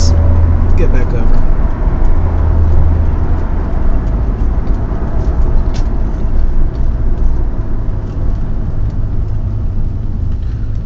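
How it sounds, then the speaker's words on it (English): Steady mid-pitched engine drone and road roar from a 1995 Nissan 300ZX Twin Turbo in normal everyday driving, loud and continuous from inside the car, with a few faint clicks. "Just normal everyday driving."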